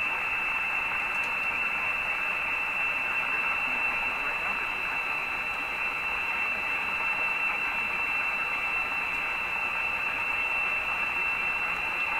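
A faint AM radio station on a Silvertone 7054 receiver, buried in static hiss, with a steady high whistle tone running throughout.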